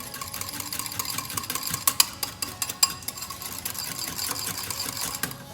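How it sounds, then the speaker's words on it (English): A whisk beating batter with a little sugar in a bowl, making a fast, continuous rattling clatter close by, with faint frying from fritters in the background. "Whisk it nicely."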